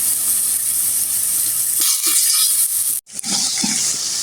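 Turmeric and chili powder sizzle steadily in a hot pan for a spicy home-style pangas fish curry, a continuous frying hiss with a brief dip near the end before it surges back.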